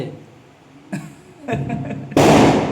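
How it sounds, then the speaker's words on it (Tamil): Sharp firecracker bangs and crackling bursts go off at intervals during Diwali, building to a loud, dense crackle at the end, with faint voices around. "பெரிய பட்டாசுலாம் வெடிக்கிறது"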